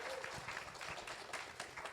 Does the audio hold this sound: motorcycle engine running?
no